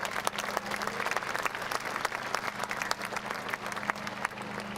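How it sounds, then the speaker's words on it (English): At a school pep fest, a crowd gives the administrative assistants a quick round of applause, brisk overlapping claps with distinct sharp hand strikes over a low steady hum, fairly even in level throughout. "let's give all of our ASAs a quick round of applause"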